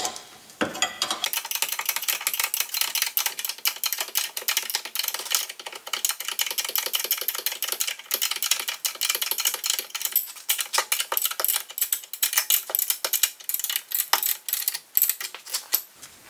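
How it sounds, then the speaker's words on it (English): A ratchet tightening the 21mm castle nut on a new Moog lower ball joint of a 2005–2010 Honda Odyssey, a fast continuous run of close, crisp clicks with slight rhythmic variation and no talk. "Tighten up your castle nut until both holes are exposed for the cotter pin."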